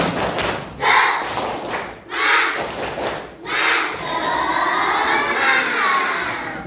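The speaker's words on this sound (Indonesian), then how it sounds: "kita tepuk semangat dulu semuanya" An audience performs the rhythmic Indonesian 'tepuk semangat' spirit clap, loud bursts of group clapping in a repeating pattern, followed by a sustained crowd roar.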